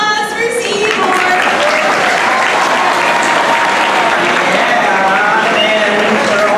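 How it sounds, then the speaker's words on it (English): Audience applause at the sea lion show at SeaWorld Orlando: loud, dense, sustained clapping from a big crowd in the stands, with voices and cheers mixed in throughout. "Everyone, big round of applause for Seymour."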